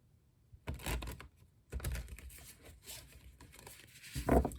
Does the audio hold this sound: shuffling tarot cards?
yes